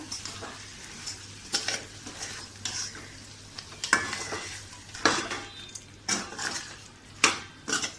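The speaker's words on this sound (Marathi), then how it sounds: "छानपैकी आपण हे चिकन परतून घेऊया." Chicken pieces stir-fried in a pan for a village-style chicken rassa. A spatula scrapes and clatters in uneven strokes over a steady sizzle with a low hum underneath.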